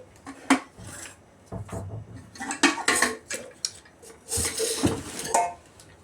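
Metal parts of a Green Chef five-litre pressure cooker set clatter and clink as they are handled, with irregular close knocks and scrapes of pots, lids and handles.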